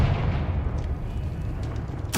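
A Confringo blasting spell bursts in Hogwarts Legacy, a dense, rumbling explosion that fades over about two seconds, closed by a sharp crack at the end.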